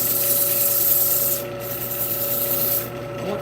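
Walnut crotch wood being sanded by hand with coarse grit: steady close scratchy rubbing strokes that pause briefly twice, with a constant hum underneath.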